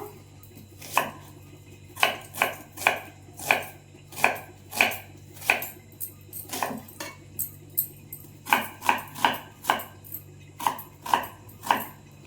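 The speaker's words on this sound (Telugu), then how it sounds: "ఆనియన్స్ కట్ చేసుకుంటున్నాను" A knife chops onions on a board in a home kitchen, making steady sharp knocks in quick runs with short pauses, close and fairly loud; no voices over the chopping.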